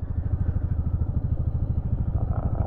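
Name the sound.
Royal Enfield Meteor 350 motorcycle climbing ghat road in low gear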